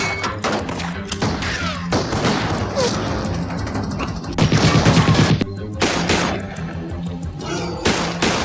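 Gunfire in a dramatized action scene: dense bursts of shots and thuds, crashing impacts and a steady pulsing score, loud and continuous with voices mixed in.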